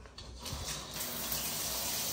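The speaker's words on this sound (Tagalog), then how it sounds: "Malakas yung tubig natin." Strong water gushes from a household faucet during a hurricane power outage, producing a steady, loud, broadband rush that holds constant throughout the short clip.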